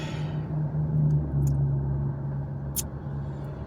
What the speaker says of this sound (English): road noise is pretty high here, and I don't really want to subject y'all to that, and wind noise too